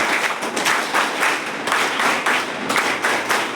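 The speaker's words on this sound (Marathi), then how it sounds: "तुमच्या शिक्षकांसाठी आणि कर्मचाऱ्यांसाठी टाळ्या वाजवायच्या आहेत" A school crowd applauds, many hands clapping at once in a lively, even patter that stays close and full throughout, with no speech.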